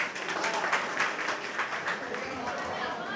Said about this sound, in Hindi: अरे तालियां बजाओ